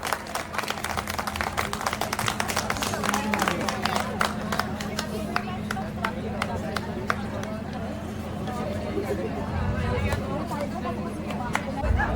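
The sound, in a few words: audience applause for Miss Sharda Lamba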